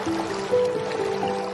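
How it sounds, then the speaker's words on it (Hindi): Water gushing and trickling into a sinking boat after it struck a large rock, a steady close liquid filling sound lasting under two seconds, alone without talk. "नाव में पानी भरने लगा और नाव डूबने लगी"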